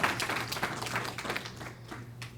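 An audience claps at an event announcing FAFSA completion in Newark, a moderate, even patter of hands that fades toward the end over a steady low hum.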